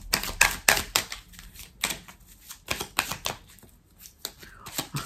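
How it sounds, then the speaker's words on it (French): Tarot cards being shuffled and laid out on a table, close up, with a rapid series of crisp riffling and slapping card sounds in uneven bursts. "On va recouvrir quelques cartes."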